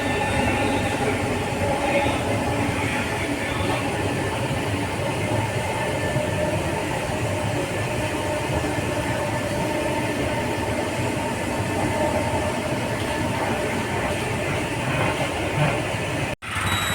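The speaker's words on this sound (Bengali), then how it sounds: "মেট্রোতে উঠে পড়েছি।" Inside a moving metro train early in the morning, a steady loud rumble of wheels and carriage with faint rail clatter throughout, ending in a brief cut.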